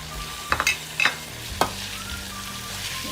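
Ginger garlic paste, onions, spices and potatoes sautéing in a pan for aloo palak, a steady sizzle broken by several sharp metallic scrapes and clinks of stirring, close up, without talk.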